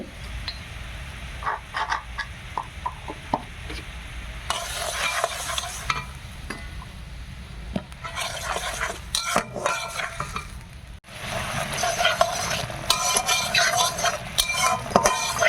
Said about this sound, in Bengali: মশলাটা একটু ভেজে নেই এই টকটা খেতে যা লাগবে